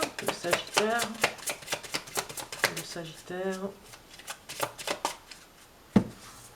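Tarot cards shuffled by hand, quick papery riffles and taps in irregular bursts, close up, with a voice speaking over them.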